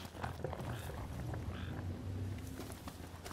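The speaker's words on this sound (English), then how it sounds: "I hear a frog, I don't see it though." A frog croaks a few times, low and fairly close, over soft outdoor ambience in Final Fantasy XV, with no talk over it.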